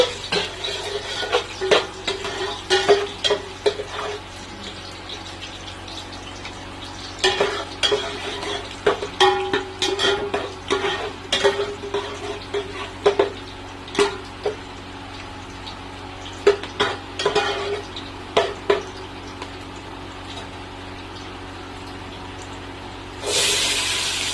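Bay leaf, cardamom and cloves frying in ghee, with a steady crackle and sizzle broken by repeated clinks and scrapes of a spoon against the pan, ending in a brief louder hiss.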